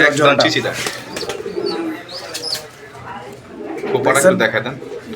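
A pair of Bombay fancy pigeons chirps and coos at close range in short, uneven bursts, with a person's voice mixed in.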